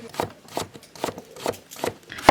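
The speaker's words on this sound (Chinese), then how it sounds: "萝卜切片" Knife slicing a radish on a cutting board, six quick evenly spaced crisp chops ending in a sharper knock, close and alone with no voices.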